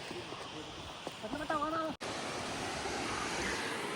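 Mallalli waterfall runs with low water flow. A brief voice-like tonal sound comes first, then after an abrupt cut a steady, fairly loud rushing wash of falling water fills the rest.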